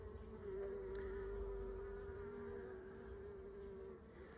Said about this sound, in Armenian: մեղուները նայ ոնց են հետ բերում մայրին